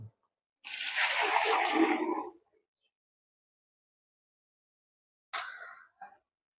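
Milk pours from a bucket into a measuring meter in one loud, splashing stream lasting under two seconds, then silence, then a shorter final splash and a drip-off.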